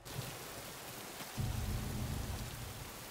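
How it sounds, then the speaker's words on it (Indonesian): Steady rain falls through a night scene in the Squid Game series, a broad even hiss that thickens into a heavier, louder downpour partway through, with no voices over it. "bisa-bisanya lagi turun hujan saat itu"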